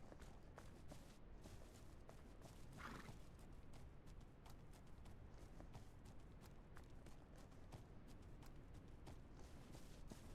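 Horse hooves clip-clop steadily on the ground in The Legend of Khiimori video game, with an occasional neigh heard over a continuous low rumbling ambience.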